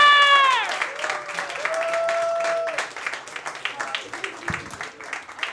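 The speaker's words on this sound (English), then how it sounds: "Everybody clap for Danielle Booher!" At a stand-up comedy club, a voice rings out first, then the audience breaks into lively, fairly close clapping that continues with uneven bursts.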